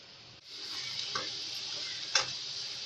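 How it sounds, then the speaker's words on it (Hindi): Minced meat (qeema) cooking with onions, green chillies, coriander, ground spices and lemon juice sizzles steadily in a pan, a close, even hiss with a few faint stirring clicks. "अब बस हम इसको थोड़ी देर भूनेंगे, बिल्कुल इसको ड्राई करके।"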